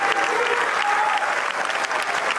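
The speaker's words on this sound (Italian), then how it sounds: "Un lungo e fragoroso applauso ha accompagnato l'ingresso della bara bianca." Long, loud applause from mourners as a white coffin enters a cathedral at a funeral in Sicily, a dense, continuous roar of many hands clapping that stays steady and close for the whole stretch.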